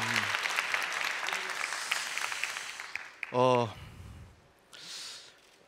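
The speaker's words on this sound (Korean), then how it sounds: "여러분 큰 박수 부탁드리겠습니다." Audience applause at the 2018 KBS Radio Drama Awards ceremony, a broad steady wash of clapping over the first three seconds, then brief voiced sounds and a short spoken exchange.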